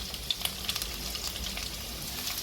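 Sliced shallots fry in oil for a chickpea curry, a soft, even sizzle with a few light crackles and pops, fairly faint and close.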